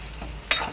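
A pickle being stirred in oil in a pan, with a short scraping and sizzling burst partway through after near-silence, close and moderately loud.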